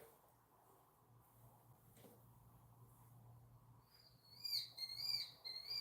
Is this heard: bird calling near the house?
yes